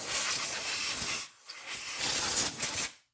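Compressed air blasting debris off a Honda Civic engine, a loud continuous hiss in two long bursts separated by a brief pause, cutting off abruptly at the end.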